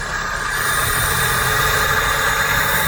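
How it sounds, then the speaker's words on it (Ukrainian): A Daewoo Nexia engine, just back from a major overhaul, runs roughly right after barely starting, with a loud, close, steady rumble and vibration that holds without revving up. "Бачимо, трохи заводиться двигун"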